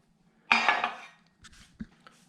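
An aluminium top cover is lifted off an inverter, one sharp metallic clank followed by a few fainter light rattles and taps, close and otherwise quiet.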